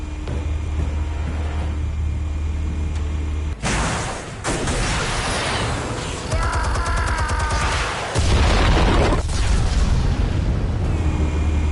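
Explosives detonating in The Batman Telltale Series game, heard as loud booming blasts with a sharp burst near the start, then rumbling debris and crackling, with a heavy low rumble carrying on to the end.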